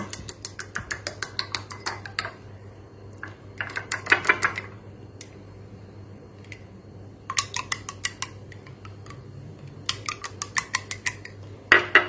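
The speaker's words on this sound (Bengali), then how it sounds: "নুন সামান্য খুব ভালো করে এটা ফেটিয়ে নেব" Eggs beaten with a pinch of salt in a bowl, giving bursts of rapid clicking whisk strokes against the bowl with pauses between, close and fairly clear over a steady low hum.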